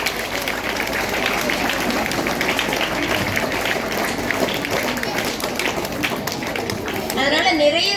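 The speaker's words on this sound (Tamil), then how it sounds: "அவர்களுக்கு கைத்தட்டி நம்முடைய வரவேற்பை தெரிவித்துக் கொள்ளலாம்" An audience at a book festival event with students claps to welcome a traffic inspector, continuous broadband clapping lasting several seconds, loud and close, with a brief different rustling noise near the end.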